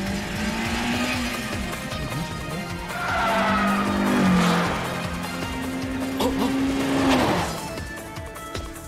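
A car races up a mountain pass in Initial D, its engine droning loudly with rising and falling pitch through gear changes and tires squealing at corners.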